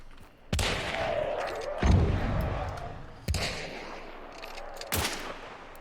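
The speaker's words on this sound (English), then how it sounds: "I'm hearing gunshots, but they're a ways out." Four sharp gunshot reports crack out at uneven intervals in a video game, each followed by a rolling echo that fades, sounding well off in the distance.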